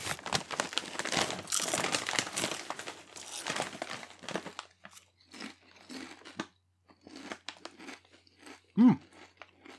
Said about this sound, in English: So let's try the honey tortilla chips.